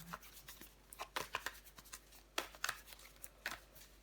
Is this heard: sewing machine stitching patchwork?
no